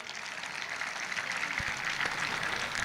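Audience applause for the sisters at a meditation program session, a steady broadband clapping that fills the whole moment at moderate level with a couple of sharper claps near the end.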